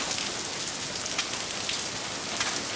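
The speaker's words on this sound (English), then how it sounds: "Oh yeah, we got hail." Hail and rain pelt down during a May thunderstorm on the Eastbourne coast, a dense, even hiss of drops striking surfaces with occasional sharper pattering, continuous and without voices.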